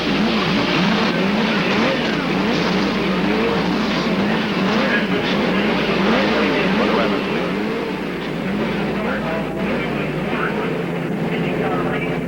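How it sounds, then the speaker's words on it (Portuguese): IndyCar engines roar loudly and continuously at the 1992 New Hampshire Grand Prix, a dense droning rumble of several motors running together, with crowd noise and a voice mixed underneath. "Motores sendo acionados. Como é gostoso esse barulho de motor"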